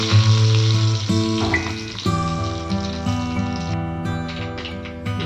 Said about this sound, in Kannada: ಆಮೇಲೆ ಕರಿಬೇವನ್ನ ಹಾಕ್ತಾ ಇದ್ದೀನಿ